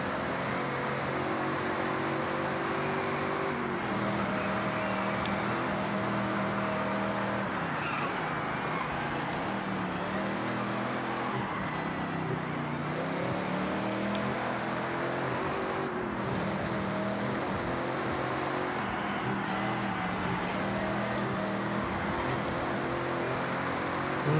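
A 1984 De Tomaso Pantera GT5 races in B Class in Forza Horizon 6, its engine droning steadily and loudly throughout, with pitch rising and falling through gear changes and tyre and road noise layered underneath.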